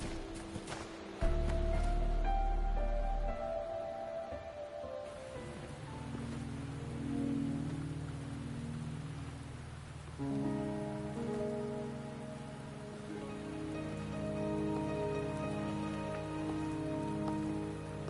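Rain pours in the video game Wuthering Waves, a dense, steady hiss of drops on surfaces running throughout, with soft tonal game music layered beneath and no speech.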